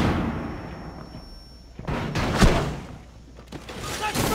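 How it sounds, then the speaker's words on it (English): A flashbang grenade goes off in a Rainbow Six Siege hostage match: one loud, abrupt blast cuts through a tense background of game noise, followed by ringing and further impact and scuffle sounds. "Throwing a flashbang!"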